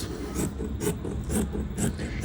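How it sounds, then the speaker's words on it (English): Scissors cut through fabric for a halterneck dress in four rhythmic, crunchy snips, close up and fairly loud. "you grab your scissors again, and then you cut out"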